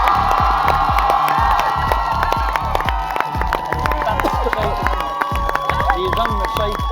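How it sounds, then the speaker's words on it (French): A studio audience applauds and cheers loudly for three finalist couples on a reality show, with dense clapping, whoops and shouts filling the room continuously. "J'aimerais qu'on applaudisse chaleureusement nos 3 couples finalistes d'Occupation Double Bali."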